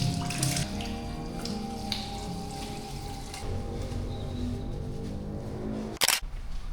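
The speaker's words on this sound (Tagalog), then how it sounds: "Hugas ng kamay. Saglit na hilamos." Tap water running steadily into a sink while hands and face are washed, a close continuous splashing wash with small shifts in flow and a sharp click near the end.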